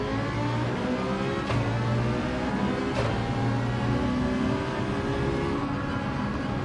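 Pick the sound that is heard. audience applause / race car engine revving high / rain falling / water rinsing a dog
race car engine revving high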